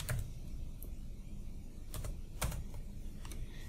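Quiet typing on a computer keyboard while writing a LaTeX document, a handful of separate key clicks spaced irregularly over a soft background hiss.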